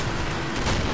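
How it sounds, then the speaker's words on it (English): Grenade blasts in the zombie shooter Killing Floor make a dense, roaring rumble that fills the whole second, loud and close with no pause. "Grenades fucked him up."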